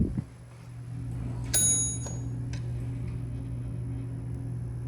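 A Westinghouse traction elevator in Farish Hall, Houston, rings its bell chime: one bright ringing strike that sustains and fades, over a steady low hum of the car and machinery, with a faint knock or two nearby.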